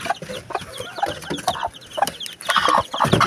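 Chickens cluck repeatedly around a feed trough, with busy, irregular bursts of clucking and scratching close by, growing louder and more crowded toward the end.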